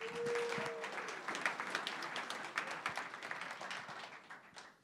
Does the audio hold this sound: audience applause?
yes